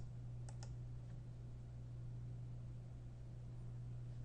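A mouse clicks on a button in an Excel risk-simulation add-in: two quick, faint clicks near the start, then only a steady electrical hum under low background noise.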